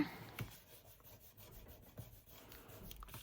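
Soft, close rubbing strokes of a burnishing tool pressed along paper card edges, a quiet, steady scraping rhythm with no talk.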